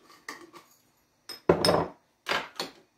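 Whole cloves drop into a dish while curry powder is made: a few separate light clinks and rattles on a hard surface, spaced out with quiet gaps between them.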